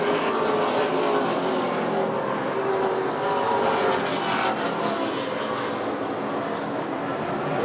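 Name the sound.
late model race cars racing side by side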